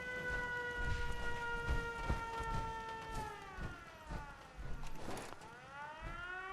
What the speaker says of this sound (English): Hearing that siren a lot today, aren't we?